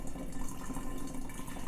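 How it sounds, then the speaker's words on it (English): Florida spring water dumped into a mead batch, a steady rushing, gurgling pour close up, continuous and moderately loud for under two seconds, no voices. "Start dumping in water."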